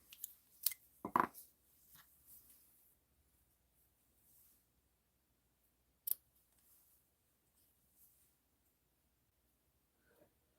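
Scissors trim gray granite ribbon for a bow in a quiet craft studio, a few sharp close snips near the start and another isolated snip later, with faint handling rustles in between.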